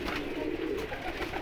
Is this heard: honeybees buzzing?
no